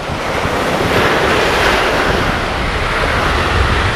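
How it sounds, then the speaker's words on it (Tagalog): A strong current and waves at sea make a loud, constant roar of rushing water mixed with heavy wind buffeting the microphone, without pause. "Lakas ang agos mga bro."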